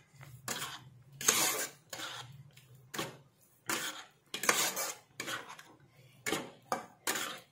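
A spoon stirs sugar into a guava laddu mixture in a metal pan, giving a series of quiet, irregular scraping and clinking strokes separated by short pauses, close by with no voices.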